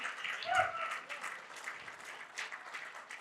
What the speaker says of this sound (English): A round of applause for Finye and the team